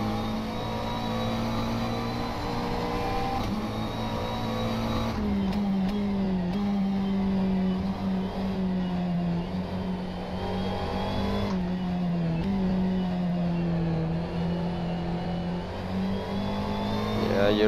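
McLaren 650S GT3 race car engine in the rFactor 2 sim racing game, a steady loud drone with rising and falling revs and gear shifts throughout, no talking.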